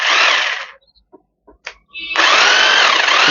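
An Ingico RGH 9028-2 rotary hammer drills in hammer mode, a loud, harsh buzzing burst that stops, leaves a few small clicks, then starts again and runs on steadily.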